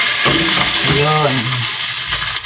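Salmon fries in butter in a pan with a loud, dense sizzle throughout, while a brief hummed or sung voice rises over the frying in the middle.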